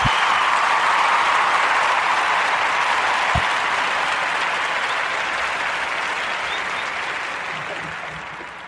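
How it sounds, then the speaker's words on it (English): Audience applause at a talk show, a dense and steady wash of many hands clapping that holds strong and then slowly fades toward the end. "Let's clap it up for Mrs. Pamela Smith."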